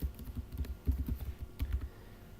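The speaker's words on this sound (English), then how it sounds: "enters the outcome of the call by typing" Rapid, uneven clicking of fingers typing on a computer keyboard, close and fairly quiet, in short bursts with brief pauses.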